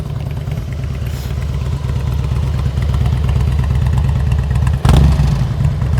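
Motorcycle engine running steadily at low revs during slow-speed riding practice after the clutch is let out, a continuous near rumble with a brief louder surge near the end.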